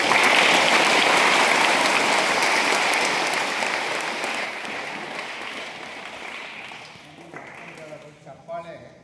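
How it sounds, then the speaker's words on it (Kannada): Audience applause at a book release event fills the room, dense and steady at first, then gradually thinning out and fading into a few scattered claps and faint sounds near the end. "ಚಪ್ಪಾಳೆ ಕಂಟಿನ್ಯೂಸ್ ಹೊಡೆಯೋದಲ್ಲ, 3 ಸಾರಿ ಹೊಡೆದು ಅಲ್ಲಿ ಕ್ಲೋಸ್ ಮಾಡಿ"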